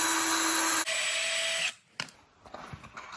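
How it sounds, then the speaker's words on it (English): A power drill whines at a steady speed as it drills into wood, pauses briefly, whirs again at a different pitch, then stops, followed by quieter handling noises. "you can take a drill and drill in first"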